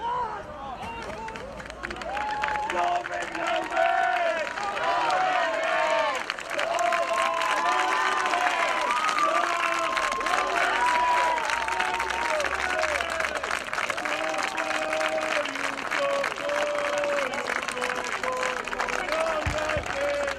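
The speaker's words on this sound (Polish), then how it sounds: "Koniec meczu. Lowlanders Białystok wygrywa 46 do 0. Wielkie brawa!" A crowd cheering and clapping at the end of an American football match: dense, sustained applause with shouts and whistles, and an announcer talking over the noise throughout.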